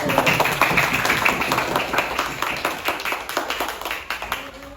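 Children in a classroom clap for a group, a burst of many hands applauding in a dense, uneven patter that thins toward the end, close and fairly loud, with no voices over it.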